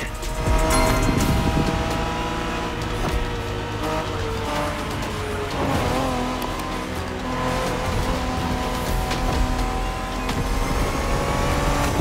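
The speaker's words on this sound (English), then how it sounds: "We're going for some proper Japanese street racing." Japanese street racing cars in The Crew Motorfest, their engines revving loud and continuous as tires squeal and skid throughout, with a dense, close mix of multiple cars and no pauses.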